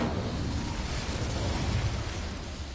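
An Incendio fire spell in Hogwarts Legacy gives off a sustained, roaring rush of flame, loud and dense with low rumble throughout, and no voices over it.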